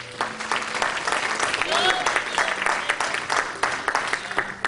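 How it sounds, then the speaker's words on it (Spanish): A congregation applauds in a Spanish-language church service, the clapping dense and sustained throughout, with cheering voices and a raised voice calling out over it. "Denle de aplauso al Rey de Reyes"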